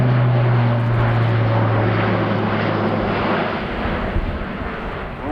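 An Airbus A400M military transport aircraft in a flying display at RIAT 2017 makes a loud, close, continuous roar of turboprop engines that eases slightly toward the end.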